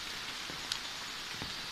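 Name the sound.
rain falling in tropical rainforest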